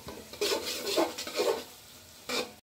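Chopped long beans and red and green capsicum being stir-fried in a pan, with bursts of sizzling and stirring scrapes that come and go, close and moderately loud, then fade briefly before a last flurry.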